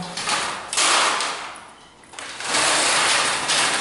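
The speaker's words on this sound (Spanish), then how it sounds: "Por esta parte observamos un blackout, el cual desliza correctamente." A blackout roller blind slides along its track in a room with white walls and a black-framed window, making two long, loud rasping runs separated by a short pause.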